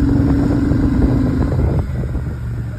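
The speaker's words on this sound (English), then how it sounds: "Twin cylinder muffle." A Royal Enfield Shotgun 650 twin-cylinder motorcycle exhaust drones loudly and continuously while riding at night, with wind noise over the steady engine note and a slight drop in revs near the end.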